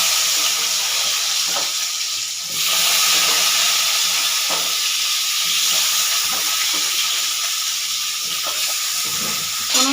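Potatoes fry in oil with dried red chilli and five-spice seeds in a home kitchen pan, giving a steady, loud sizzle with occasional stirring scrapes throughout.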